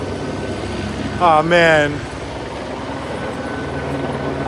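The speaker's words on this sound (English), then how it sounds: "let's see if the helicopter does their little success thing" A police helicopter over Los Angeles keeps up a steady, low rotor drone throughout, while a man's brief exclamation cuts in loudly near the start.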